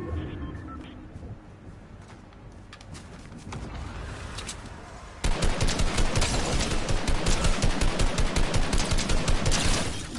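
Gunfire from an enemy team in Fortnite Reload: scattered distant shots at first, then a sudden loud, sustained burst of rapid automatic fire hammering in a fast regular rhythm until the end.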